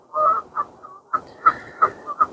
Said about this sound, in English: Just me and the geese.